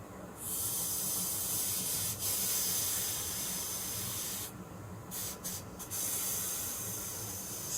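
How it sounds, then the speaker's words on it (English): A hot steam iron hisses steadily against a bass guitar nut being loosened, a continuous spray-like steam sound with a few brief dropouts near the end. "Steam this nut up."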